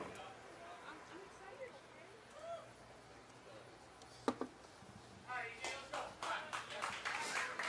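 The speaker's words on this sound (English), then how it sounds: "some premature clapping from the crowd" At a professional bowling stepladder final, the crowd breaks into scattered early clapping that builds into rhythmic bursts near the end, heard under a commentator's talk and low arena murmur.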